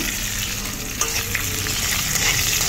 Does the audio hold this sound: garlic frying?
yes